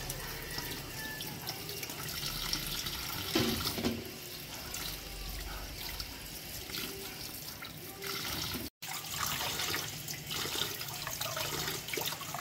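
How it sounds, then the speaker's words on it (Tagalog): Peeled elephant foot yam is rinsed under running tap water, a continuous splashing stream with shifting gurgles and clatters and one momentary break, and no one talks over it. "Tapos hugasan po."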